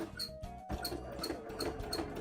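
A sewing machine stitches embroidery up close, a soft, quick mechanical whirring with repeated clicking pulses.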